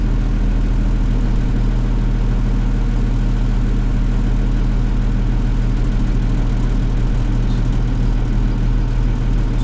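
A tractor idles with a steady deep, even hum and slight vibration while the front furrow ram of a Dowdeswell DP5S plough extends; no talk, just the continuous engine drone.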